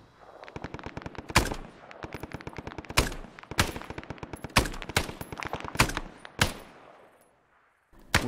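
Machine gun fire in the video game Hell Let Loose rattles out in repeated long bursts, loud and close, with a few heavier shots standing out. It stops briefly near the end before another shot.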